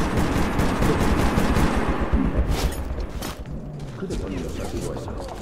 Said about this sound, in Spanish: El de la ametralladora está como el loco.